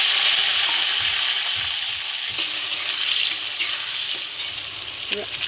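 Whole cardamom, cinnamon, dried red chilli and bay leaves frying in hot oil with tomato and ginger, a steady loud sizzle with faint stirring clicks and scrapes, no talking.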